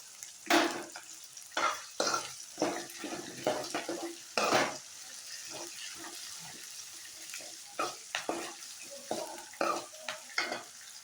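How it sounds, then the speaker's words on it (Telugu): Onions frying in a pan with two dried red chillies, with a spatula knocking and scraping in irregular strokes over a light sizzle, close and fairly loud. "మనకి ఆనియన్స్ కొంచెం లైట్ బ్రౌన్ కలర్లోకి వచ్చే వరకు కొద్దిగా వేగనివ్వాలి"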